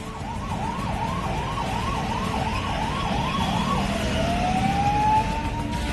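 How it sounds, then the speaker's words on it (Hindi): An ambulance siren wails in a fast repeating rise-and-fall pattern, then shifts to a long sweeping tone, while the ambulance is stuck in a slow traffic jam on the road from Noida into Delhi, with steady traffic rumble underneath. "ऐसे में एक एम्बुलेंस इस ट्रैफिक जाम में फंसी हुई है।"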